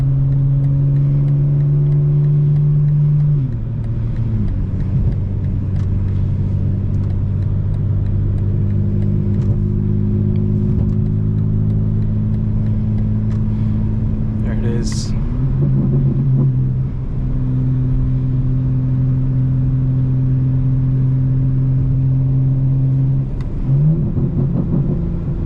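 Deep, steady exhaust burble from a 2025 BMW M4 Competition xDrive, heard from inside the cabin with the windows up, a low rumbling drone that shifts pitch a few times as the engine settles and picks up, with a brief sharp sound midway.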